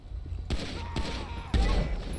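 Gunfire in GTA 5 with the LSPDFR police mod: three sharp shots at roughly even intervals, moderately loud, with muffled background noise between them.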